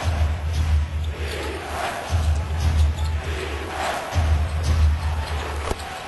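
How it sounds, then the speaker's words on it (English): Crowd in a basketball arena during a 76ers–Celtics NBA game, roaring steadily with swells of cheering and a low rumble, while a commentator talks over it. "Crowd wasn't in it early, but they are now."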